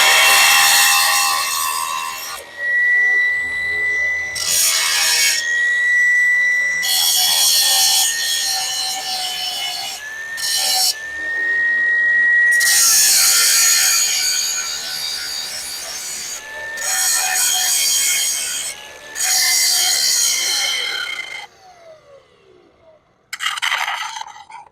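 Heavy paint is worked off metal down to bare spots before welding on a tire-mounting gadget, loud, close abrasive scraping in several long bursts with short pauses between them.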